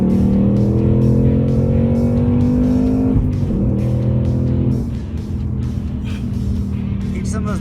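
The engine of a 2021 Ford Mustang Mach 1 drones loudly from inside the car while driving on a track, its pitch rising, then dropping abruptly during gear shifts.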